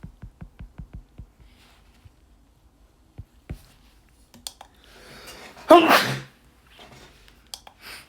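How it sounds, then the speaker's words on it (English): A single loud sneeze bursts out near the microphone during a quiet online maths lesson, preceded by a run of light keyboard typing and clicks. "Oh, sneezing."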